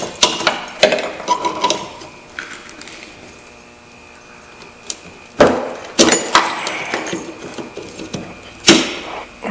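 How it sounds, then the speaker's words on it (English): A fuel hose connector snaps onto the fuel pump of a 1994–2004 Ford Mustang, among several sharp close plastic clicks and knocks from handling parts, with a quieter pause midway. "we're going to reattach this hose, and you'll hear it snap"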